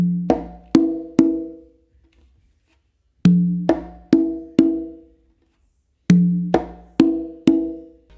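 On a conga and tumba, a close slap is followed by two open tones. The pattern is played slowly three times, each group of three or four ringing, resonant drum hits separated by short silences, close-miked with no talk.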